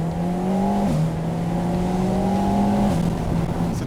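An Alpine with a 1.8 litre engine drifts through fields, its engine holding a loud, steady drone that dips briefly as the revs shift, then climbs back, all heard from close by.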